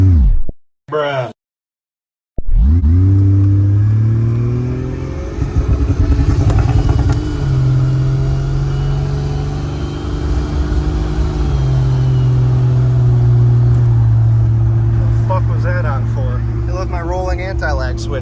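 A Jeep Cherokee XJ with a turbo 2JZ swap and a factory AW4 transmission idles loudly with anti-lag switched on, its engine rumbling and popping after some brief clatter. The sound carries on steadily and close by, and a voice is heard near the end.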